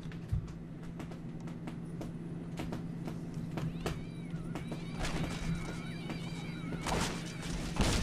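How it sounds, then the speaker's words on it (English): Repeated cat meows and yowls in the video game Postal 2 over a steady electronic hum and busy game background noise, with a few sharp clicks scattered throughout. "Hallelujah, it's raining cats."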